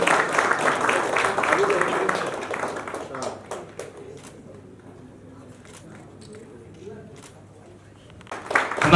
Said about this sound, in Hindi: तालियों की कमी गड़गड़ाहट स्वागत होना चाहिए।